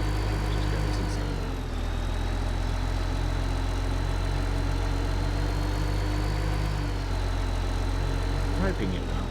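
Tractor engine idling steadily in the video game Farming Simulator 15, a loud, continuous low rumble with a droning whine that keeps a constant level throughout and never cuts out.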